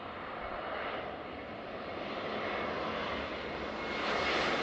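A Volaris jet airliner arriving from Guadalajara roars steadily on approach at the airport, a broad sustained engine rush that swells slightly louder toward the end.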